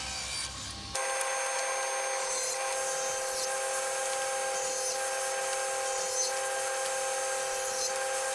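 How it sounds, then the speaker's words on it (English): Table saw ripping narrow MDF strips for faux rails and stiles, a loud steady whine of the blade cutting that starts abruptly after a second and holds evenly to the end. "Here I'm ripping the narrow strips that'll be the faux rail and style."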